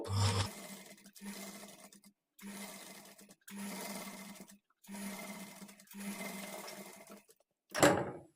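A sewing machine with a normal presser foot runs a top-stitch along the lining edge beside thread piping, in five steady motor runs of roughly a second each separated by short pauses, close and clear with no talking.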